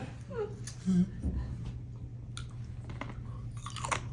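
Hard gum being chewed up close, with soft wet crunches and smacking bites in an irregular rhythm, quiet overall with brief vocal sounds mixed in.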